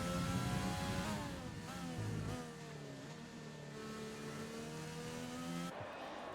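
An F1 race car in a racing video game screams past at high revs, its engine note climbing and dropping through gear changes as it takes a corner. The sound is steady and fairly faint, with no talk over it.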